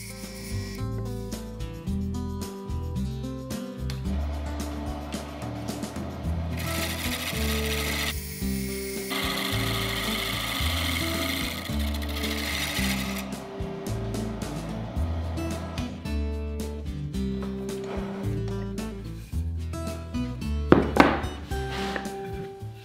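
A wood lathe turns wooden legs for a planter box, a steady whirring hum broken by scraping and rubbing as the tool cuts the spinning wood, ending in a few sharp clacks.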